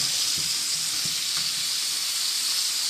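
Chicken pieces sizzle steadily in a hot pan, a loud continuous hiss with a few soft thumps early on as they are flipped and pressed down.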